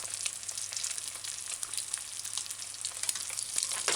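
An egg frying in oil in a non-stick pot gives a steady, close crackling sizzle with scattered sharp pops, continuous and alone with no talking.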